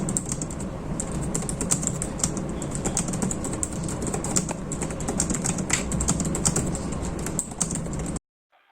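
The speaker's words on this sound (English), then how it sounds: "This is how typing sounds like on the keyboard." Typing on the aluminium-bodied Lenovo Legion 5 Pro laptop keyboard, a close, rapid and uneven run of soft key clicks and taps for several seconds, no voices, ending abruptly.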